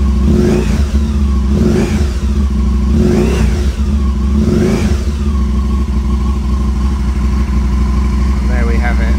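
An Aprilia Caponord motorcycle engine is revved four times in a row while hooked up for throttle sensor diagnostics. Each rev is a loud, rising and falling roar, and the engine then settles back to a steady idle.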